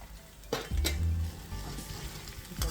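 Fresh ground turmeric stirred into a frying pan for egg bhurji: close, steady frying sizzle with a few sharp scrapes and clinks of the spoon against the pan.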